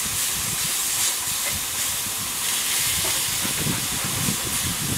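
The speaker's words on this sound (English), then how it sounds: "So we're going to brown it on our shovel." Ground beef browns on a hot shovel over a railroad locomotive firebox, giving a steady, broad sizzling hiss throughout, with light crackles and no talking.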